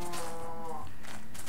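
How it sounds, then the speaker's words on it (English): A Minecraft cow moos once in a video game, a short low harmonic call up close that fades out after under a second, with faint game ambience following. "This is called a cow."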